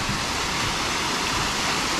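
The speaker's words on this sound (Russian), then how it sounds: "Водопады." A waterfall pours down beside rocks at Lazarevskoye in Sochi, a steady, dense rush of water that is loud and close with no talk over it.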